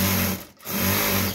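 A sewing machine runs a narrow seam under a georgette sleeve, whirring steadily up close and dipping briefly mid-run before resuming at full speed.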